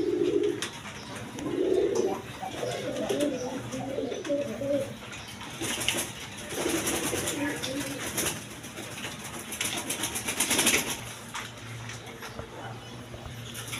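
Pigeons in a pigeon-selling setting coo in soft, repeated low bursts, some close and some farther back, with a voice faintly under them at times.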